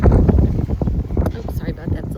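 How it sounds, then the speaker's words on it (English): Gusty outdoor wind buffets the microphone, producing loud, rumbling low-frequency bursts throughout, with a voice speaking over it. "It's a little windy here."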